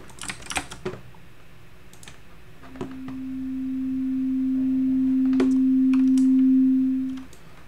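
A Sonic Pi software synth note shaped with a long attack and short release: a steady pure tone swells slowly for several seconds, then cuts off quickly, alone over faint background clicks of keyboard typing.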